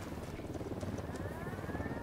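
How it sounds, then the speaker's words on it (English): A helicopter approaches in the game Ghost Recon Wildlands, a steady low rotor drone with a rising whine, moderately distant beneath ambient game noise. "I hear a helicopter."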